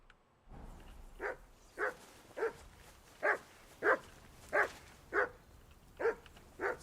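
A dog barks repeatedly in the video game Kingdom Come: Deliverance 2, about ten evenly spaced barks at close range standing out clearly over a quiet background.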